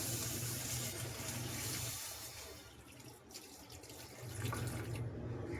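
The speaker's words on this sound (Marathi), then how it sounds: "थोडं पाणी वतणार आहे मी पहिलं" Water poured steadily into a pot, a continuous close splashing stream that eases briefly in the middle before picking up again.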